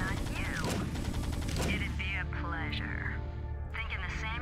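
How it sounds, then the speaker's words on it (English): Automated turrets in StarCraft keep up rapid fire under a talking voice, the shots running as a busy mechanical rattle throughout the short stretch. "The automated turrets are just going to continue to hit me."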